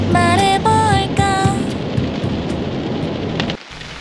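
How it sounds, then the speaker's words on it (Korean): Heavy rain pours outside a Staria camper van as a constant, dense hiss. A short melodic tune plays over the first moments, and the sound drops away abruptly near the end. "비가 많이 옵니다."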